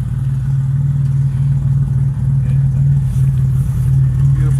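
A Porsche 996 on a GT3 birthday cruise gives a loud, close, sustained engine note with a steady deep drone throughout, slight swells in revs and no talk over it.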